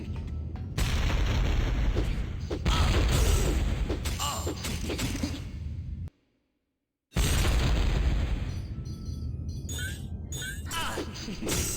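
Bomb blasts in TechnoMage: Return of Eternity on PS1, loud booming explosions and clattering impacts in two dense bursts separated by a second of silence.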